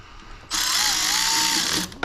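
A power tool tightens bolts while working on a Volkswagen car, whirring in one steady, close burst of about a second and a half before cutting off with a faint click.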